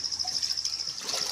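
Water flowing inside a flood-damaged mountain well with a cracked cover, a steady trickling and gushing rush that continues without pause and sounds fairly close.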